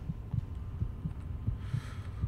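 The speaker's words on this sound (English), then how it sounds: "the heartbeat is certainly doing its fair share here" A steady, muffled heartbeat thumps in paired beats with an even rhythm under a low hum, the low-health heart sound effect from the video game Fallout 3, faint and continuous with no talking.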